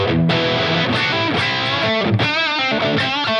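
Electric guitar played through a Tonex tone model of a Boogie Mark 535 head into a 2x12 Celestion Vintage 30 cabinet, loud and distorted with sustained chords and ringing single notes, with no voice.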